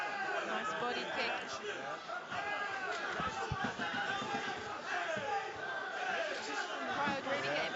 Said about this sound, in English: Crowd really getting behind these two